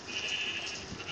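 A sheep in the video game Minecraft bleats as it is being killed, giving a short, wavering bleat that stands alone at moderate volume.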